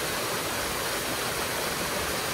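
Little waterfalls in a canyon make a steady, broadband rushing of falling water, continuous and moderately loud with no talk or other sounds.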